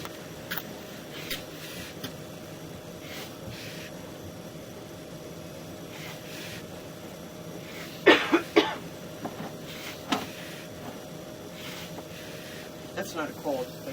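A person coughs in several sharp bursts, a quick cluster followed by a couple more later, near and clear above a steady hum that sounds like an airplane cabin, with talking around them.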